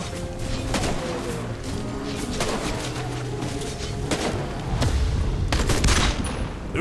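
Gunfire cracks out in repeated bursts against zombies in a zombie survival game, sharp shots at irregular intervals over a busy low rumble, with a heavier flurry near the end.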